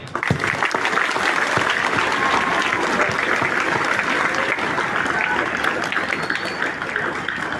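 Students at a Teachers' Day school ceremony break into loud, sustained applause, a dense steady wash of many hands clapping outdoors that holds at full strength throughout.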